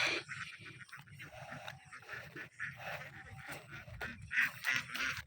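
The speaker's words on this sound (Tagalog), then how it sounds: "May mga itik sa palayan." A flock of ducks in a rice field quacking and honking in a chorus, overlapping calls continuing throughout against a soft outdoor background.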